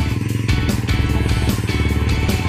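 Motorcycle engine thrumming loudly and close on a rural village road with three riders aboard, a steady throbbing putter with slight rises in revs.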